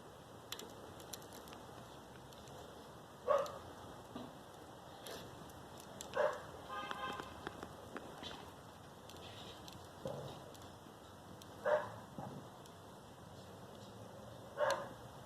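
A few faint dog barks echo from far off at irregular intervals over a quiet outdoor background hum.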